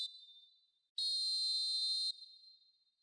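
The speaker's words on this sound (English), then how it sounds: "And the half-time whistle goes." Referee's half-time whistle in the PES 2020 football video game: a short initial blast, then one long steady shrill tone lasting about a second, each followed by a fading reverberant tail.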